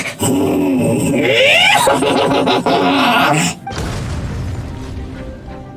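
Genshin Impact game audio: whooshing, whinnying effects and rumbling build up, then a deep boom bursts out before the sound drops into a low, fading rumble.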